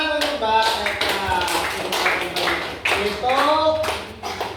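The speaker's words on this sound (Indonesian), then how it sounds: "tepuk tangan untuk Mbak Eka" Students in a primary school classroom clap for a classmate in a close, lively burst of applause, with voices heard over the clapping.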